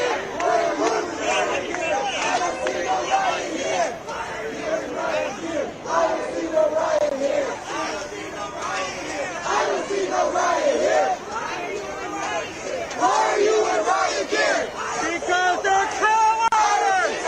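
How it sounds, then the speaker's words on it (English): Protest crowd in LA chanting and yelling at federal agents in riot gear, a dense, continuous swell of rhythmic shouted voices with rising and falling intensity. "the crowd chanting, "Why are you in riot gear?""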